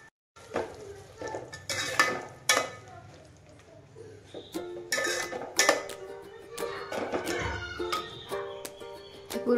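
Yogurt being stirred into a cooking pan, with repeated metal spoon clinks and scrapes against the pan, close and moderately loud, under a soft kitchen background.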